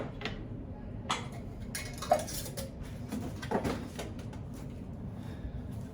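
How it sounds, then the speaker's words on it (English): Plastic lid being fitted back onto a fertilizer container beside a mason jar hydroponic setup, a few close clicks and clunks over steady background noise, no voices. "Put my lid back on the fertilizer."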